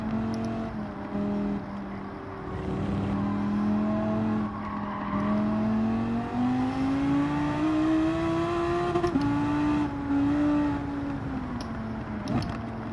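A race car engine in Gran Turismo 7 revs and holds high, a loud continuous drone that climbs slowly in pitch, dips briefly, then rises again before easing off near the end.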